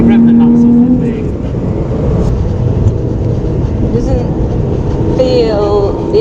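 A car engine revs hard during a Goodwood media drive day, a loud sustained roar that climbs and falls with gear changes while people talk over it.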